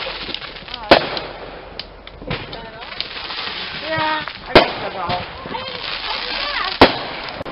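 An artillery shell firework goes off in three sharp, loud bangs spaced several seconds apart, with people talking and moving around between the blasts.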